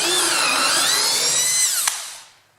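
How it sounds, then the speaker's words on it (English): A power drill bores into wood with a steady, high whining buzz for about two seconds, then winds down and stops. "I hope that wood will hold up to being drilled into."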